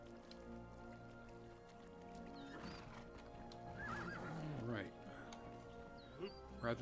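A horse in the survival video game Conan Exiles whinnies and clops its hooves, with game ambience and someone talking over the sounds at moderate level.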